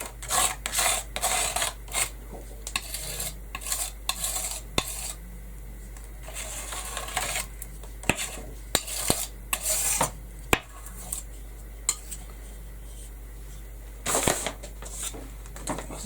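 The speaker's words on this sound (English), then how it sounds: "So now I need to scrape that off." Scraping of paint off a canvas, a stencilled autumn leaves painting, heard as repeated close rasping strokes in bursts with brief pauses and a steady low hum beneath.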